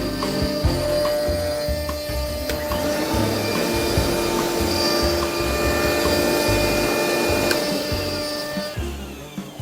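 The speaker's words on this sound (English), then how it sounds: "doing a juice groove with a profile on the line with a 7/16 bowl bit" A CNC router with a 7/16 bowl bit cuts a profiled juice groove in wood, giving a loud, continuous whining grind with a steady motor tone and shifting cutting noise throughout.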